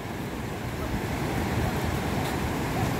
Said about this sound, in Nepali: खोलाको सुसाइ गतिले छ अहिले